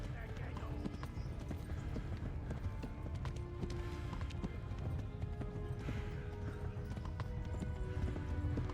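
Hooves of a galloping horse in the medieval video game Kingdom Come: Deliverance, a rapid, repeated clip-clop rhythm with a snort or whinny, under a man's speech and game sounds.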